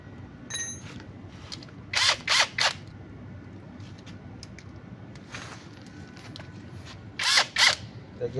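Wrench ratcheting bolts loose on a Yamaha Byson motorcycle starter, short bursts of sharp metallic clicking in several clusters, close and fairly loud over a steady background hum.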